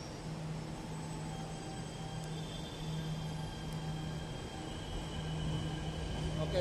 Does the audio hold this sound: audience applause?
no